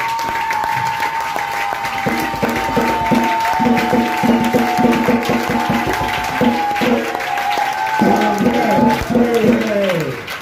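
A church congregation at a French-language gospel crusade festival applauds and cheers the Lord in steady, loud clapping from a large crowd, with music and a voice sustained over the top throughout.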